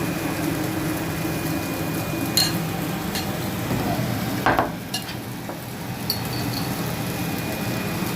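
Wheat atta dosa batter spread on a hot tawa gives a steady, moderate sizzle throughout, with a few faint scrapes and clinks of a utensil along the way and no voice.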